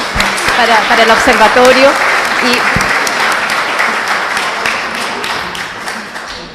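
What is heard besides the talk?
applause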